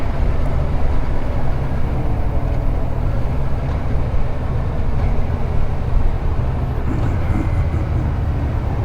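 A Kawasaki Versys 1000 motorcycle with a six-speed clutchless shifter is ridden at a steady pace, its low engine drone blended with heavy wind rush throughout.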